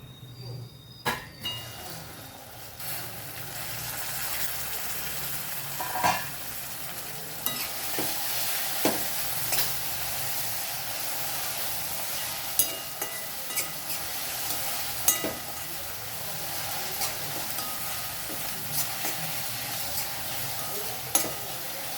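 An egg fries in a pan with a continuous close crackling sizzle. Occasional light clinks and scrapes of a utensil cut through, and a faint murmur rises in places.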